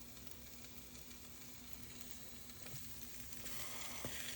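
French toast sizzles in a frying pan as a faint, steady hiss with a low electrical hum beneath, swelling slightly near the end with a soft clink.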